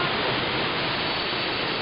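The Sheshory waterfalls pour in a steady, dense rush of white water, loud and close with no break in the flow.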